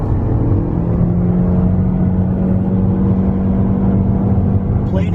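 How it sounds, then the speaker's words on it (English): A 2025 Toyota Camry SE hybrid accelerates with a steady low engine hum and road rumble heard from inside the cabin, loud and continuous throughout. "we're going to go ahead and give this Camry a little bit of gas here"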